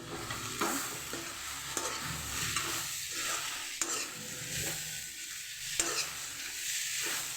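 Banana flower stir-fry (koombu thoran) is stirred in a hot pan, with a steady soft sizzle and scraping strokes of a spoon against the pan repeating at an irregular rhythm.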